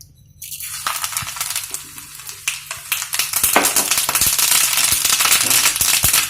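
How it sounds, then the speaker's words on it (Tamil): Mustard seeds crackle and pop in hot oil while tempering a potato ball preparation, with dense, sharp popping that starts after a brief silence and builds into a loud, continuous sputter. "கொஞ்சம் ஆயில் ஊற்றி நம்ம கொஞ்சம் கடுகு போட்டுக்கலாம்."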